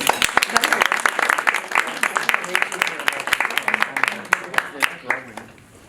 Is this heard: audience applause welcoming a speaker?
yes